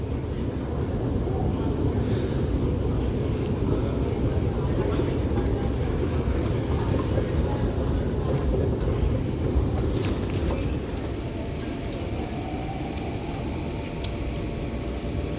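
A Singapore MRT subway train runs between Expo and Chinatown, a steady, loud low rumble and roar on rails throughout, with a faint high hiss above.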